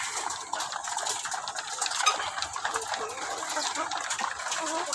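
A flock of chickens clucking and chattering softly amid steady outdoor background noise, with a murmuring voice now and then.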